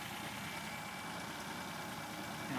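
Holden 202 six-cylinder engine near operating temperature idling steadily, a faint, even mechanical hum and vibration with no voices.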